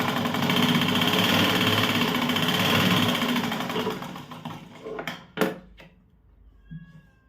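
A sewing machine stitching blouse fabric runs at a steady, loud whir for about four seconds, then slows and stops, followed by a few sharp clicks and handling knocks.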